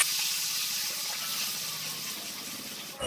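Water pours into a frying paste of green chili, coriander and cumin, making a close, steady gushing hiss that lasts about three seconds before cutting off.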